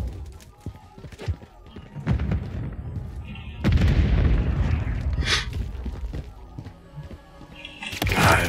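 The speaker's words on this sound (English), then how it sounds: "Grenade out." A grenade explodes in Call of Duty Modern Warfare 3, a heavy booming blast with a rumbling tail among scattered gunfire thumps, loud and close, with other bursts following.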